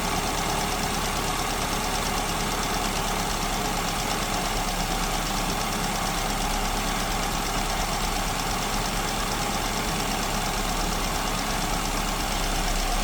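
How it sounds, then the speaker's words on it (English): A steady, even engine idle drones on, unchanging and fairly loud, as the idle mixture nut of an SU carburetor is turned inward to lean the fueling. "I'm just turning the idle mixture nut inwards to reduce the fueling."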